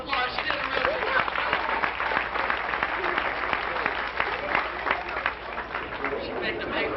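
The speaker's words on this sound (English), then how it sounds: "Alright, y'all give her a round of applause." Steady applause from an audience at a Gatorland alligator show in Florida, dense overlapping claps held at an even level throughout, with some voices mixed into the crowd.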